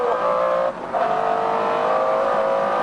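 A McLaren F1 engine howling at high revs through a gear change, loud and close from inside the car, with a short dip in pitch before the roar climbs again.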